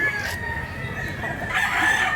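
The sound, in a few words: rooster crowing at a chicken market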